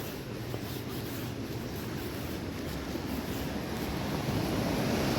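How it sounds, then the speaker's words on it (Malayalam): Water rushes past the side of Anayirangal Dam as a steady, dense roar that holds at an even level throughout, with no voices over it. "ഇതിൻ്റെ ഒരു സൈഡിൽ കൂടിയാണ് വെള്ളം ഒഴുകി പോകുന്നത്"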